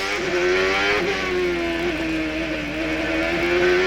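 A 2002 CART race car at full speed during Saturday qualifying on the Toronto street circuit, losing a little traction. Its loud, continuous engine scream wavers and briefly dips in pitch, with no voices.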